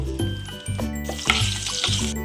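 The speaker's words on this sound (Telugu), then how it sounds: "ఇప్పుడు పచ్చడి తాలింపు పెట్టుకుందాం. ఆయిల్, తాలింపు గింజలు, ఎండుమిరపకాయలు" Tempering seeds and dried red chillies sizzle in hot oil for a curry leaf chutney, a loud continuous crackle with sharp spitting bursts under steady background music.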